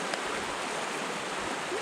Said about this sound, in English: It's got us coming straight down into the creek.